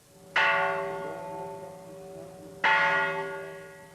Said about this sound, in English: United Nations Secretary-General Kofi Annan, who rang the ritual peace bell to start the General Assembly